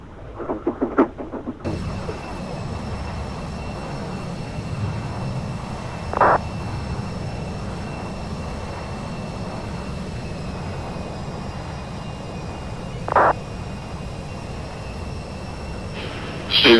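Airliner in a flight simulator rolling for takeoff, a steady engine roar running throughout with a few brief louder bumps spaced several seconds apart.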